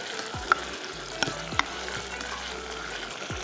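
Chopped garlic fries and sizzles in oil for a homemade Egyptian koshari tomato sauce, a steady crackling hiss broken by a few sharp spatters and stirring knocks, close and with no talk.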